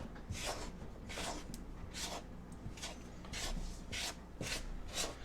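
A spoon stirs and scrapes biscuit dough of flour and lard around a bowl, giving repeated rough, rasping strokes at a steady rhythm, close and fairly loud, with no talking.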